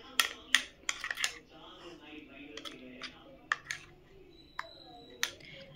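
A spoon scrapes and clinks against a bowl while stirring a homemade soap paste of lentils and milk, giving irregular sharp taps and scrapes, near and fairly quiet, with faint talk.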